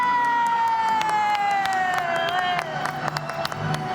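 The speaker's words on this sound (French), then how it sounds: "tu applaudis ton public" A studio audience on a French television talent show claps and cheers, with dense applause and whoops under a sustained tone, fairly loud and continuous throughout.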